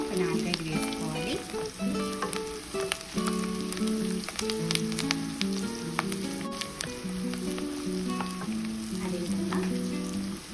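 Mutton with green chillies fries in a pan for a Mysore-style mutton fry, a dense continuous sizzle with crackling pops and occasional stirring scrapes, close and steady, with no talking.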